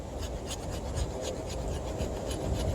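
Steady scraping of a Linder Bowie knife's spine across a surface, a continuous raspy rub with faint repeated strokes, close and moderately loud with no talking.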